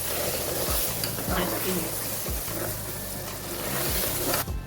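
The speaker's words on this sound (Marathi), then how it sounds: "एक हात असा हलवायला आणि एक हात दूध टाकायला, कारण की दूधही गरम होतं." A spoon scrapes and stirs in a pan as hot milk is poured into roasting semolina for a Satyanarayan prasad, with a continuous sizzle and bubbling and repeated stirring strokes close by.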